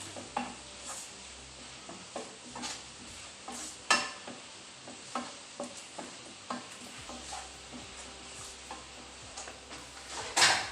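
Tomato puree frying in a pan for a Tulu-style chickpea and potato gasi, with soft sizzling under intermittent sharp taps and scrapes of a spoon against the pan, close and unhurried.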